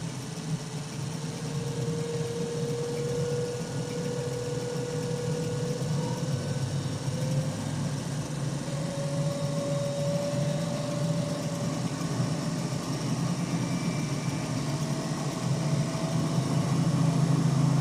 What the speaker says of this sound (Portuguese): A máquina está numa rotação muito mais alta, né? Porque a gente removeu aquelas resistências